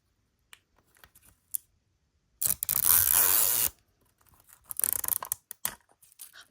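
A zipper pull ripping open a Spin Master How To Train Your Dragon Trial of Flame Minis blind-box package: a single loud tearing rip lasting about a second, followed by softer crinkling and rustling of packaging, close up and otherwise quiet.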